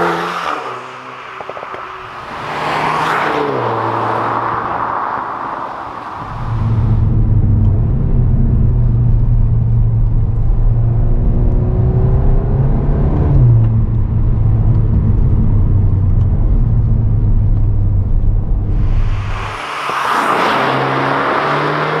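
A 2021 Volkswagen Golf R MK8 drives under load, its engine droning steadily loud and close with low rumble and rising revs, easing briefly in the middle before the sound changes near the end.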